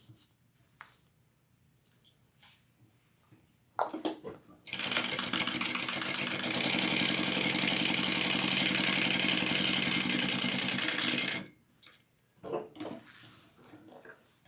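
A sewing machine stitches two bag slip pockets together in one continuous, loud, fast whirring run lasting about seven seconds, with quiet fabric handling before and after.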